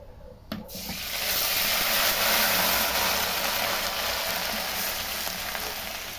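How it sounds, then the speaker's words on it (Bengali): Whole spices and an onion, garlic and ginger paste fry in hot oil in a kadai. A sharp hiss starts, then swells into a loud steady sizzle that slowly eases. "কড়াইতে তেল গরম করে নিয়েছি এখন দিয়ে দিলাম গোটা মশলা এখন দিয়ে দেব পেঁয়াজ রসুন আদা বাটা"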